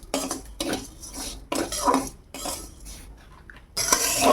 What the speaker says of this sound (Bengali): সাময়টা একটু ভালো করে ভেজে নিই।